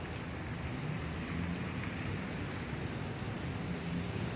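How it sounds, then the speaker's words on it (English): Steady rain falling on a cool rainy March day, a continuous even hiss and patter with no pauses and no voices. "This is a video, not with the best quality, but with active rain."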